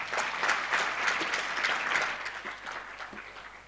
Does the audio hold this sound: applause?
yes